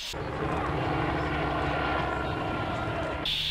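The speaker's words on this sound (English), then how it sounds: "if I can just attract the attention of this helicopter, we might be all right." A helicopter flying overhead, its steady, loud engine and rotor roar filling the whole stretch before cutting off abruptly near the end.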